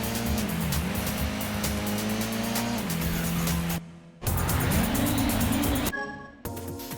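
A Toyota Soarer races in Gran Turismo, its engine droning loudly and rising and falling with gear shifts and tire squeal. Two sharp cuts to near silence interrupt the run.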